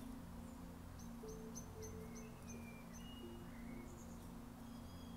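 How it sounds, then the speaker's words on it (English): A blackbird sings a few doors away, giving faint, distant fluty whistles and short chirps over a quiet background hum. "You can hear Georgie two doors down and the females are over the road"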